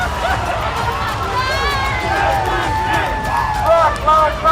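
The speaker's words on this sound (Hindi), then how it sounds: "पगलाई भीड़ ने एक मूर्ति पर अपना गुस्सा उतारा।" A crowd of protesters in the United States attacks a statue of Albert Pike, with loud, continuous shouting and cheering voices over dense hubbub, close and chaotic throughout.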